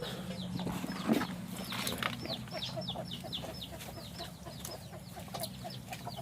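Laying hens that have just started laying cluck softly and repeatedly in a farm coop, with overlapping bird calls and faint mechanical rustling in the background.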